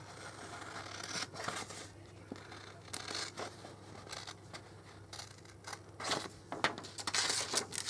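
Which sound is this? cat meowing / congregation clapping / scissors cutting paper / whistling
scissors cutting paper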